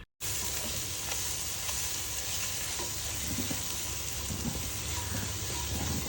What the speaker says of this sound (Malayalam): ആ ഒരു കൂട്ടും കൂടെ ചേർത്തിട്ട് നല്ല രീതിയിൽ തന്നെ ഒന്ന് വഴറ്റി